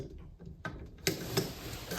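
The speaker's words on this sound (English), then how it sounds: "You've got to pull the bolt all the way forward." A rifle bolt racked forward during weapons training gives a few sharp, close metallic clacks, the loudest near the middle, over a quiet room background.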